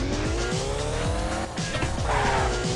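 Car tires squeal continuously while drifting in CarX Drift Racing, a loud, close, wavering screech riding over a revving engine, with no talking.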